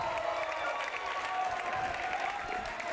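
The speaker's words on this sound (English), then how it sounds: "The crowd is going wild." A gym crowd at a high school varsity volleyball match between Petaluma and El Molino cheers and applauds loudly and steadily, a dense wash of clapping and shouting with a sustained whistle-like tone running through it.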